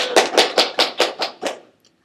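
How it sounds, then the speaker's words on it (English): Hands clap for a guest on a mock talk show staged for a school English project: seven steady, evenly spaced claps, close and crisp, ending in silence with no talking. "Please give her a round of applause."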